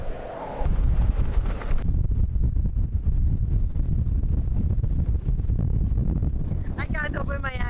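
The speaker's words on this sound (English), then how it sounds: "This place is so windy." Loud, steady winter wind in Spain buffeting the microphone in a constant roar, with a brief voice near the end.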